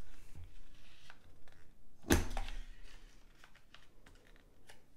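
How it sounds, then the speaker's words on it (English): Corner rounding punch clipping paper box corners, one sharp close thunk-click standing out from quiet handling rustles and soft taps, no voices heard. "now I'm bringing in the detailed trio punch"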